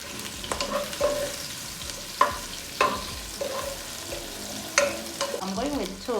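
Ginger sizzles and fries in a pot as the base for a steamed tilapia soup, with a steady crackle broken by several sharp clinks and scrapes of a stirring utensil against the pot.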